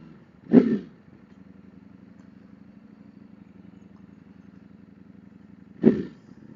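A 2021 Ducati Streetfighter riding on the interstate: a steady, droning engine note runs throughout, broken by two short, loud bursts near the start and the end.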